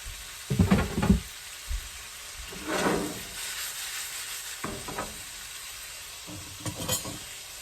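Meat with garlic browning in a pan for spicy gravy makes a sizzle broken up by several bursts of scraping and stirring, with quieter frying in between.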